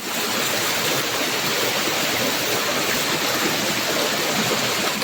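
Steady rushing of a small stream, water flowing continuously over rocks at close range, with no voices.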